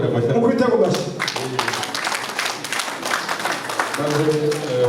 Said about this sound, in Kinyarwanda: Mukubite ku mashyi.